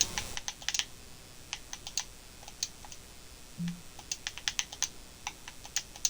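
Keys clatter on a computer keyboard in quick, irregular bursts of light clicks, close and quiet, with brief pauses between runs of typing.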